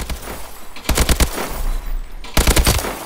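An AK-12 assault rifle fires in an online shooter game, loud close bursts of rapid automatic shots in two volleys separated by a brief pause, with no talking.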